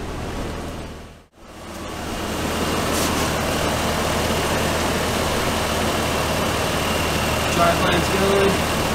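Toyota Land Cruiser engine running with the driveline turning during a front axle rebuild, a loud continuous rumbling drone with a brief cutout near the start, speech heard over it.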